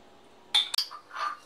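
Green grape pieces and mint leaves dropped into a mug, giving a couple of quick, sharp clinks followed by a softer knock, close and brief in a quiet kitchen.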